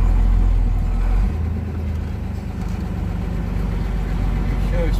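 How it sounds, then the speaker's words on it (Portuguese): A truck rumbling over the potholes of a crumbling stretch of the BR-316 highway, a low engine drone with uneven thumps, moderately close, with someone talking softly over it. "Olha o caminhão caindo aí nos buracos"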